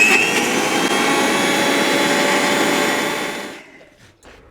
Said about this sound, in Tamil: இந்த மிக்சியில் போட்டு ஒரு அடி